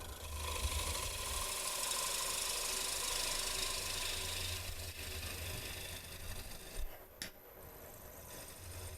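A bottom bowl gouge with a secondary bevel cuts across the bottom of a wooden bowl spinning on a wood lathe, a steady hissing, scraping shave over a low motor hum, briefly interrupted near the end.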